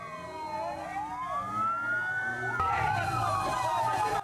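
Fire engine siren wailing loud and near at a burning pickup truck fire on a city street in Palangkaraya, Central Kalimantan, rising and falling steadily throughout with a second siren tone joining partway and traffic noise beneath.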